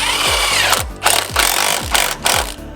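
A power tool works a fender bolt on a Tahoe, giving repeated short whirring bursts with rising-then-falling pitch, about five pulses in quick succession, close and loud with no talking.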